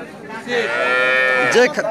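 A single long, loud cow moo with a rising then falling tone, close by at a cattle market, with no talking.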